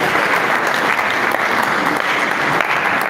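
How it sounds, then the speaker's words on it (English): Sustained round of applause from a seated audience at an agricultural capacity-building event, dense steady clapping filling the whole stretch with no pauses or voices. "He deserves a round of applause for the."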